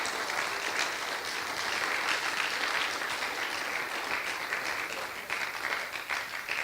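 A church congregation claps steadily and fairly loudly for God at a Spanish-language worship service, the dense applause filling the whole stretch with no one speaking.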